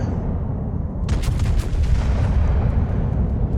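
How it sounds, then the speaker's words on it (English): Warspite's 15-inch naval guns fire in a naval battle game: a quiet rumble, then a sudden massive boom with crackling broadband blast that rolls on and sustains loudly to the end. "Let's see what the Warspite's 15-inch guns can do to that Fuso."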